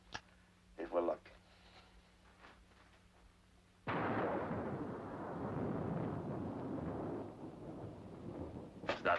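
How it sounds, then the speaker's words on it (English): Deep rolling thunder breaks in suddenly and rumbles on loudly for several seconds, preceded by brief talking and ending with a voice. "Is that real thunder?"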